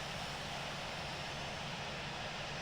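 A simulated airliner rolls for takeoff in the Infinite Flight flight simulator, giving a loud, steady, broadband engine roar that holds unchanged for the whole short stretch, with no talk over it.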